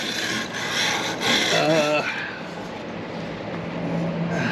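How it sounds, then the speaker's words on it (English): Brushing and scraping grass clippings and crud off the mounting surface under a John Deere L120 riding mower, a steady close rasping rub that runs throughout with slight swells in intensity, no talking. "Only thing I'm doing here is just cleaning up my mounting surface"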